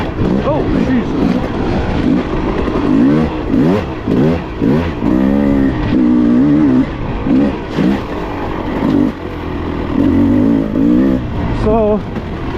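A dirt bike engine revs and pulls continuously while riding, loud and close, with the pitch rising and falling through throttle changes and a rider's voice breaking in over it.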